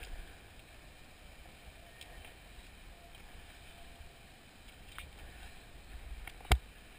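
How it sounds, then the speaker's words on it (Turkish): Strong wind on a hilltop at a paragliding site makes a steady, low, rumbling roar against the microphone, with a single sharp knock close to the end. "Çok rüzgar var değil mi tepede?"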